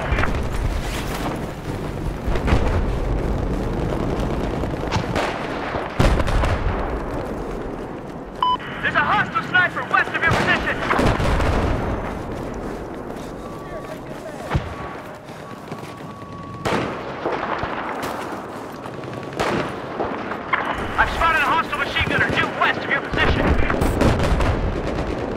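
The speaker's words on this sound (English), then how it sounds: "Hostile machine gun." Machine gun bursts and booming artillery fire from the video game Battlefield 4 crack and thud repeatedly over a rushing, noisy battlefield background, with talk mixed in.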